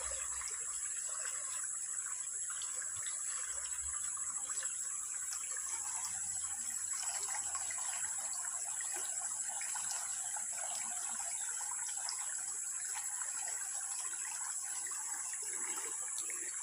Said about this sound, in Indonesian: Ini salah satu sungai yang masih asri